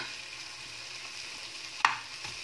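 Red beans frying in a home-kitchen pan give a low, steady sizzle, with a single sharp clink or scrape of stirring partway through and a softer one just after; no voices.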